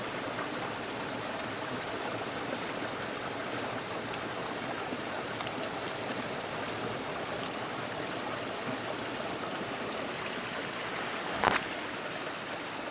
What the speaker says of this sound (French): Et ce ruisseau, en fait, borde là, la propriété.